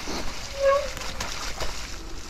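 Mountain bike rolling through deepening water on a muddy, rain-soaked trail, with soft splashing and sloshing that swells around the middle of the short stretch amid wet rolling noise.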